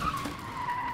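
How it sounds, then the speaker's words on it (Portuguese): A truck crashes through the border checkpoint in the video game Papers, Please, with a loud, sustained screech like skidding tires lasting about a second. "Caralho, invadiram com o caminhão!"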